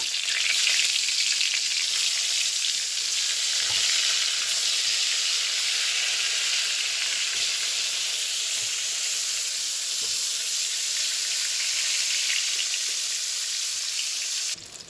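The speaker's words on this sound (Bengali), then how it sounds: "ওই একই তেলে বেগুনগুলোকে ভেজে নেব।" Eggplant pieces fry in hot oil, giving a loud, dense, continuous sizzle that holds steady close up for the whole stretch and cuts off near the end.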